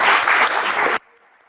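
Loud applause from a meeting audience, dense clapping filling the first second before cutting off abruptly to a quiet room.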